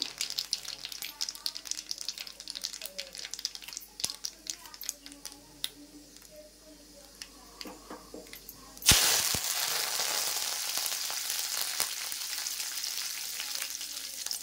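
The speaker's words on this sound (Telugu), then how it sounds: "కరివేపాకు కూడా వేస్తున్నాను ఇందులో" Dried red chillies and curry leaves drop into hot oil, setting off a sudden loud, sustained sizzle after a stretch of quieter clinks and kitchen handling, the crackle continuing close and steady to the end.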